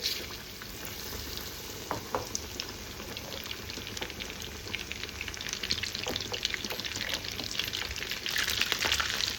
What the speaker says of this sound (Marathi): भिजवलेलं आपण जे आहे तयार केलं आहे हे आता याच्यात तळायला आपण टाकणार आहोत. तेल तापलेलं आहे इकडे.